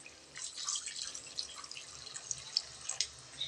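About one and a half tumblers of water poured into a cooking pot, a close, light splashing and dripping trickle with small irregular splashes, no voices.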